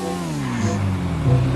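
A car in GTA V pulls away with a rising engine rev, close and loud, the pitch climbing steadily as it drives off.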